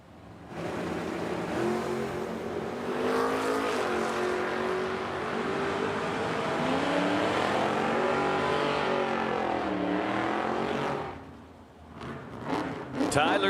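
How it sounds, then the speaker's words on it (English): Race cars accelerate down a drag strip at a racetrack, a Corvette among them, roaring loudly and steadily for about eleven seconds before the engine noise drops away, with an announcer talking over it. "Now Tyler Zeller coming up, left side of the racetrack. And Tom Taylor in his Corvette."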